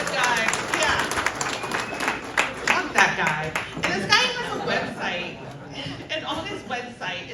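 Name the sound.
audience round of applause for the Sherpas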